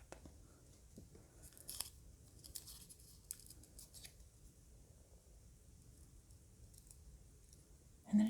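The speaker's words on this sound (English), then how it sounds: "I'm using both of the nails, my thumbnail and the fingernail, to cut the nail strip" Fingernails pinch and cut through a Color Street nail strip, giving soft scattered clicks and snips, close and quiet over a faint hiss, with a sharper tap at the very end.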